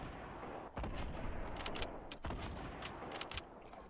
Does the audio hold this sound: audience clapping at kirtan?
no